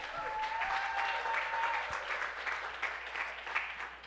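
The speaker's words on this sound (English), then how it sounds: "let's give the Lord a hand clap of praise" Congregation applauding together in a church service, a dense, steady wash of many hands clapping that holds at an even level for several seconds.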